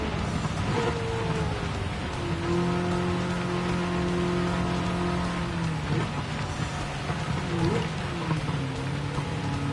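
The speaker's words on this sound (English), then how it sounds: "A lot more rain coming, but patchy, so it's going to get more drivable now." Heavy rain hisses over a race car in Gran Turismo 7 during a Le Mans road car challenge. The engine's droning tone rises and falls under the steady downpour throughout.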